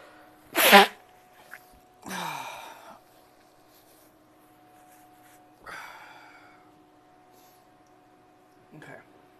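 A person sneezes once, sharp and close, then gives several weaker breathy sneezes or snorts spread over the following seconds in an otherwise quiet room with a steady low hum.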